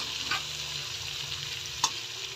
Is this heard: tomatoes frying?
yes